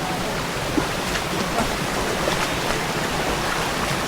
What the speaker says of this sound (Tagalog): May batis.